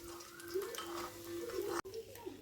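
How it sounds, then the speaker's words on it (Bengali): Fried cashews and raisins being stirred and scooped from a pan of hot ghee into a bowl, a steady close sizzle with scraping and light clinks of utensil on metal, then a brief clatter. "এবার দেখো আমি একটা পাত্রের মধ্যে তুলে নেব।"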